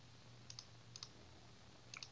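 Three quick pairs of mouse clicks in SourceTree while cloning a repository, sharp, close and distinct over a steady low hum, spaced evenly across two seconds.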